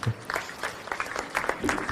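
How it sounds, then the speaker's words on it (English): Lecture audience applauding a professor's presentation in a hall, a steady patter of clapping hands held over the full stretch, fairly close and moderately loud. "One round of applause for Professor Sharma for his presentation."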